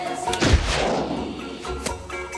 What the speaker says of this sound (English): The bad guys seemingly teleport to his location instantly and we have one of the worst shootouts ever filmed.